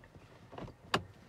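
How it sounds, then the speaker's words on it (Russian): Audi A6 C5 central locking unlocks the other doors: a soft thud followed by one sharp, brief click of the lock actuators, fairly faint against a quiet car interior. "И все, все двери остальные открываются."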